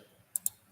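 Two crisp, quiet computer mouse clicks in quick succession, a right-click landing close to the microphone over faint room hiss.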